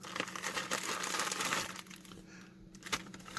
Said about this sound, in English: it is literally a bunch of plastic bags